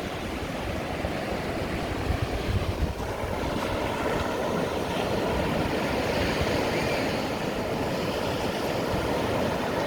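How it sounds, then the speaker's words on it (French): Atlantic Ocean waves breaking on a wide sandy beach near a dune, a steady broad wash of surf roaring continuously with wind buffeting the microphone throughout. "L'océan Atlantique et ses jolies vagues."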